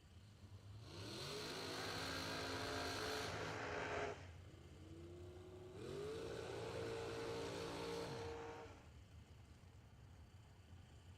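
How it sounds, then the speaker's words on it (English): Supercharged 2022 Miller dragster with a big blower pulling up at a bracket drag race, two long rising engine revs, each holding a sustained roar before cutting off, at a moderate distance with a lower idle between and no talking. "'22 2022 Miller Dragster pulling up tower side of Jason Hoff"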